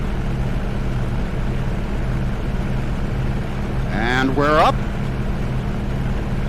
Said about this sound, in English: Big, massive radial engine spitting out power.